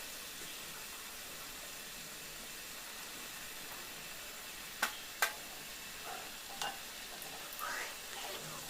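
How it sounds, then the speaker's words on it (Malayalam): Semolina snack pieces frying in medium-hot oil give a steady, soft sizzle throughout, with a few sharp clinks and stirring clatters partway through. "മീഡിയം ചൂടായ എണ്ണയിലേക്ക് ഇട്ടിട്ട് ഫ്ലെയിം ഒന്ന് താത്തി വെച്ചിട്ട് നമുക്ക് ഒന്ന് തിരിച്ചും മറിച്ചും ഒക്കെ ഇട്ടിട്ട് ഒന്ന് വറുത്ത് കോരിയെടുക്കാം"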